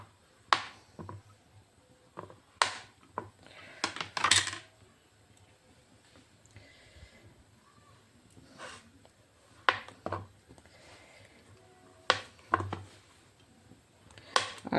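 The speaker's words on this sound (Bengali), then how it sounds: "এটা ছোট ছোট পিস করে এখন কেটে নেব এটাকে।" A knife cuts a block of soap base into small pieces. Sharp, irregular clicks and taps come in scattered clusters with quiet gaps between them, close and moderately loud.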